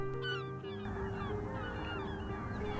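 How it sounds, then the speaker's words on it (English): Snow geese honking by the shores of the Salish Sea in fall, a dense flock of overlapping nasal calls, many birds near and far, steady and loud without talk. "I've come to see the snow geese."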